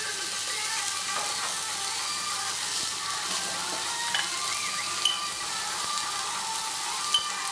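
Ground spices, cumin among them, fry in hot oil for chole, making a dense, steady sizzle throughout with a few faint pops and stirring clicks close by.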